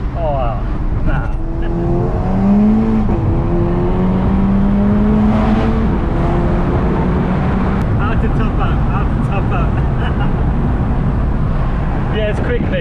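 A tuned VW Golf GTI Edition 30 with a turbo accelerates from inside the car, its engine note rising and pulling steadily under road and wind roar, while people talk over it.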